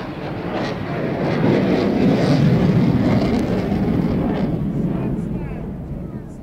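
RAF Typhoon fighter jet in a daytime flying display at the Scottish International Airshow, a broad roaring engine noise swelling to a peak and slowly fading as the jet passes.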